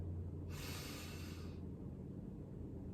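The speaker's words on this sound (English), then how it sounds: "Deep breath in." A single soft, drawn-in breath lasting about a second, close and quiet over a low steady background hum.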